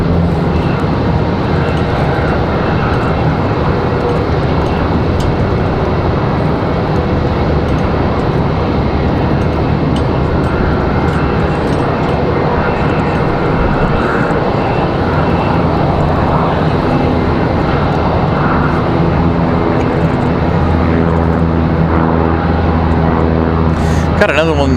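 A small aircraft departing Raleigh Durham airport, a loud continuous engine drone with steady harmonic tones running unbroken, someone talking over it.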